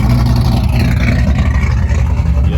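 Revving engine of a ProCharged Corvette, a loud, steady, choppy low rumble heard up close with no pauses.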